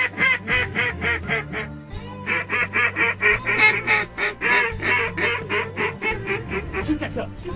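Loud, rapid honking and quacking calls from waterfowl repeat continuously during a duck hunt near a blind, a dense flock-like chorus close by.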